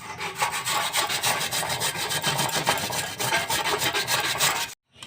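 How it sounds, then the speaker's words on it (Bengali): A potato is rubbed over a fine grater in steady, rapid rasping strokes, close and loud, stopping abruptly near the end. "এখন আমি ঘষে নেবো আলুটা এইভাবে"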